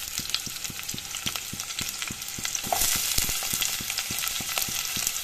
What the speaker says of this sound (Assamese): এইখিনি অলপ ৰং চুঙোৱা কৰি ল'ম পিঁয়াজখিনি।